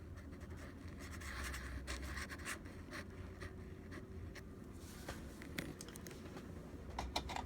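A fine fountain pen nib, a Schaeffer Triumph among wet noodle pens, scratches and glides across paper in a soft, close, continuous scritching with small taps and strokes.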